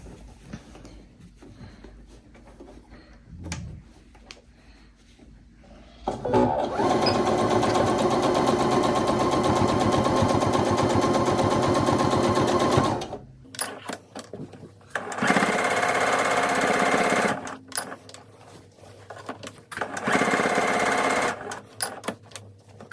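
A sewing machine stitches an eighth-inch seam around the top of a fabric soup bowl cozy in three close bursts of steady whirring, the first long and two shorter ones separated by quiet handling sounds.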